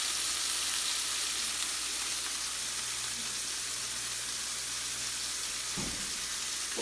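Pork chops crisp in a frying pan with a dense, even sizzle that holds steady and close throughout, broken by a brief clatter near the end.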